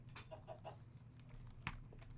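A golden chicken mob added by a Minecraft mod gives a few short, soft clucks, with one sharper cluck near the end.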